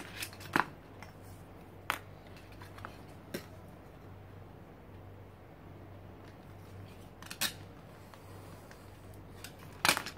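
Scissors snip through a piece of craft material on a cutting mat: a handful of short, crisp cuts spaced a few seconds apart over a quiet, low room hum, with no talking.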